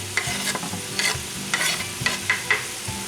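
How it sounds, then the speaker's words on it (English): Peppers and onions hitting a hot pan of ground beef, a loud close sizzle broken by repeated clattering stirs, with no voices. "Peppers and onions going in."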